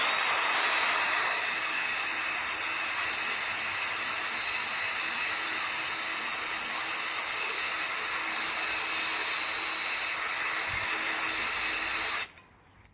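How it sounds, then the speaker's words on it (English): A power drill whines steadily at close range for several seconds, then cuts off abruptly near the end. "Drill my hole."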